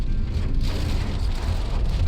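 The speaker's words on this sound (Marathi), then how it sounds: "आम्ही गाडीत आलो आणि पाऊस अगदी जोरात सुरू झाला" Heavy pre-monsoon rain in the Konkan drums steadily on a vehicle, a dense, loud and continuous wash of sound with a low rumble underneath.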